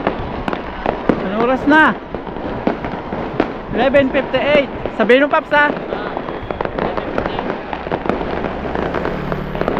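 Fireworks and firecrackers popping through a Chinese New Year night, repeated sharp cracks and bursts mixed with excited voices talking and cheering close by.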